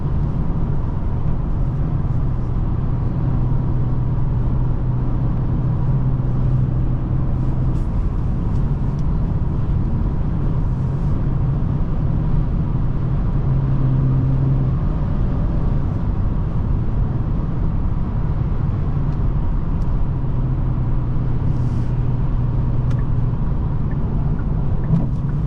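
A 2023 Genesis G70 3.3T AWD cruises on the road, heard from inside the cabin as a steady, loud low rumble of engine and road noise with no talking.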